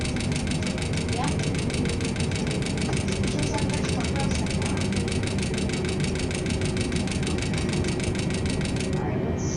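Aircraft engine drone in a robot bird flying video game, a steady buzzing engine hum held throughout with voices talking over it.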